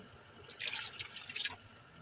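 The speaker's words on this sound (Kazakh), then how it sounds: "үстіне қайнаған судан 2 стакан су құйдым" A short patter of boiling water poured into a cooking pot, splashing and dripping for about a second, then fading to quiet room tone.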